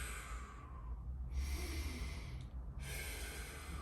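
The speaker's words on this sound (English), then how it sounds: "so breathe out." A slow, audible breath out during a tennis elbow stretch, a close airy exhale with a brief pause and a second breath, set over a low steady background hum.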